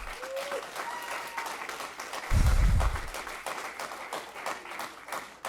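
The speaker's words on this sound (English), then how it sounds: "clap if you agree with me" Applause rises from a crowd at a public school district board meeting, breaking in as a short, loud burst of clapping with a deep thump, between stretches of speech and room noise.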